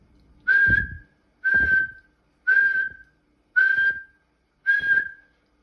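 A person whistles five times in an even rhythm, each a loud sustained tone with a breathy start, imitating a pressure cooker's whistle while making biryani.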